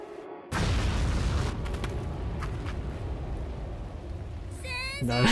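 An explosion in the horror video game SIREN hits with a sudden loud boom, then a long roaring, crackling rumble, and a new burst and ringing tones arrive near the end.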